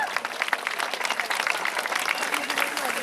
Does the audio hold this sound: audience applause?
yes